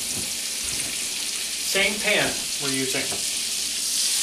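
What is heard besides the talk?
butter melting and sizzling in a pan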